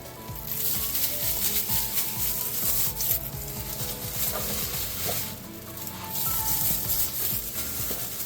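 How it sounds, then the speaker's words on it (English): Sweet pepper and onions fry steadily in a pot for Jamaican curry goat, giving a continuous close sizzle with rubbing and scraping of a utensil and no talking. "I'm gonna add some sweet pepper. We're gonna add our onions."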